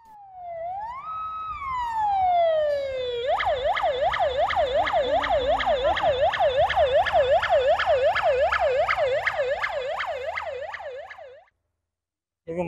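A single emergency vehicle siren sounds during a fire drill at a hospital, as rescuers and an ambulance arrive. It opens with slow rising wails, then shifts to a fast, steady yelping warble that is loud and clear for about eight seconds before cutting off.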